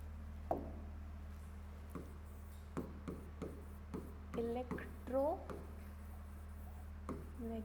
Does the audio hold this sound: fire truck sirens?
no